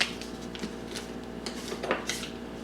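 A knife cuts into a stick of butter on a kitchen surface for apple pie bread, giving a few soft taps and light clinks of the blade against a board or dish, quiet and close.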